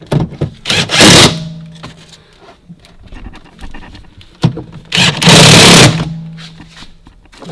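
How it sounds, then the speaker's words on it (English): Drill driving bigger screws during installation of a motor controller output regulator on a Club Car golf cart: two loud whirring bursts, each about a second long, close by, separated by quieter clicks and handling noise. "I'm going to swap bits for the bigger screws"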